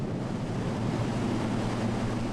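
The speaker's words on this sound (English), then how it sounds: "ships as they encounter the crashing surf, unpredictable currents, and fierce winds of the infamous Columbia River Bar" Crashing surf and fierce wind at the Columbia River Bar roar as a steady, loud wash of noise, with wind buffeting throughout and no voices.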